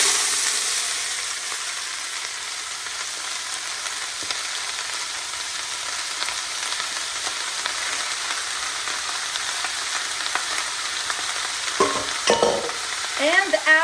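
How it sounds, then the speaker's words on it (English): Onions sautéing in olive oil in a deep pot give a steady, close sizzle with soft stirring scrapes, growing busier near the end; no talking. "And I'm going to be sauteing my onions."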